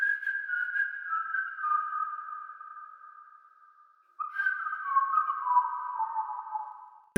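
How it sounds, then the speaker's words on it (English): A smooth, sustained synthetic whistle holds a steady pitch, gently sliding downward, then cuts out briefly and returns for a second long, wavering tone. "I just wanted to add that whistle effect"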